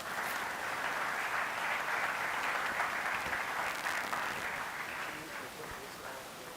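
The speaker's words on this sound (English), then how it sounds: "Please give a big round of applause for him." A conference audience at an inauguration applauds the keynote speaker, sustained steady clapping for several seconds, moderately distant, easing slightly toward the end.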